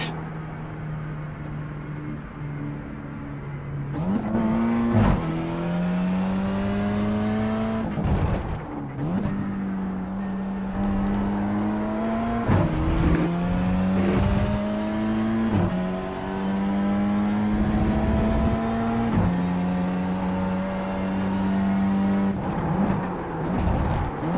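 A race car engine revs through repeated acceleration sweeps during a lap, each gear climbing in pitch before a short break at the shift, loud and close with a droning in-car tone.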